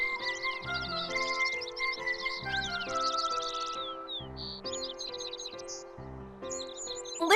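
Birdsong in Kingdom Hearts 3, a string of bright chirps and twittering calls layered over a gentle, melodic background tune, repeating in short phrases and ending with a louder flourish.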